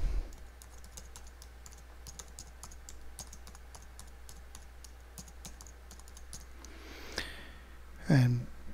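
Rapid, even keystrokes on a computer keyboard tap out a name in a quiet room, a steady clatter of light clicks, followed near the end by a brief breath or sigh.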